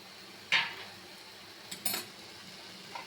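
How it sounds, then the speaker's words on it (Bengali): A utensil knocks and scrapes against a pan while cooked tomatoes are stirred, giving a sharp clink followed by two softer scraping strokes over a quiet background. "টমেটোগুলোকে নেড়ে দেবো"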